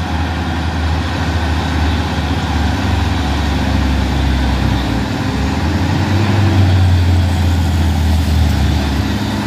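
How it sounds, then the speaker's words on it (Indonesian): A Hino tanker truck's heavy diesel engine runs with a loud, constant low rumble on a road, steady throughout with no voices. "Ya, ada juga truk tangki dari bawah Hino."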